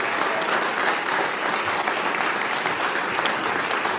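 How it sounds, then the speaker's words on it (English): Dense, continuous applause from a seated audience at a city's State of the City event, loud and even throughout with no voices rising above the clapping. "Can I get another round of applause for all?"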